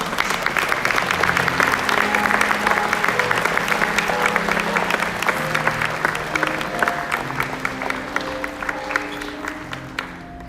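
Sustained applause from a standing audience at a National Charity League chapter senior recognition ceremony, dense and steady throughout, with some murmuring voices and background music tones underneath.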